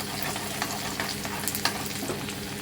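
Garlic being stirred and fried in a pan after cumin, a busy hiss of sizzling with scraping stir strokes, steady and close, with no talk.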